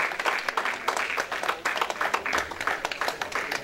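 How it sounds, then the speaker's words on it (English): A crowd of audience members applauds steadily at an event honoring a civil rights worker, dense overlapping claps sustained at an even level throughout with a few scattered voices mixed in. "Give her a round of applause."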